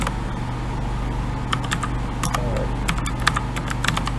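Typing jQuery code on a computer keyboard, a steady stream of close, crisp key clicks with irregular rhythm over a constant low hum, with no talk.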